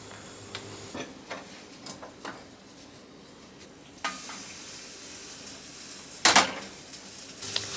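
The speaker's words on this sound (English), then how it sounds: "transfer the pasta to the other pan that we were using" Boiled, unsalted pasta goes into a pan for Asian garlic noodles: scattered clicks and utensil clatter, a sharper burst of sizzle and clatter partway through, then quiet rustling.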